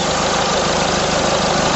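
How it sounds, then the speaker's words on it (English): A car engine idles with no heater or lights switched on, a steady, loud, even rumble with a regular low pulsing throb that runs unbroken throughout. "Now that's just with the engine running, with no heater, lights or anything else switched on."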